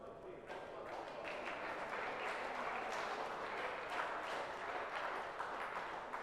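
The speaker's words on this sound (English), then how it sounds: "So the crowd are making a wee bit more noise here." Crowd at a European cup table tennis match in Glasgow, a sustained wash of applause and cheering at moderate distance, steady throughout, with a commentator's voice speaking over it.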